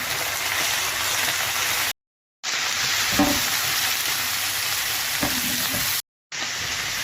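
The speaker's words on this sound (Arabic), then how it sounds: "هننزل دلوقتي بالبصل، هنقلبه بقى عشان ياخد كل الطعم اللي نزل من اللحمه" Onions sizzle loudly in a pan of meat juices while being stirred, a steady bright frying hiss with scraping stirs, broken by two short silent gaps.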